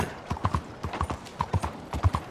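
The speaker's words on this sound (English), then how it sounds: "My brand new Missouri Foxtrotter." A Missouri Fox Trotter horse in Red Dead Redemption 2 walks with steady, close clip-clopping hooves in an even rhythm, with no talking.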